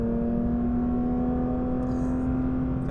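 A 992.2 Porsche 911 GT3 travels along a smooth road in normal mode, a steady engine and tyre drone with a sustained whining tone, heard from the cabin without speech.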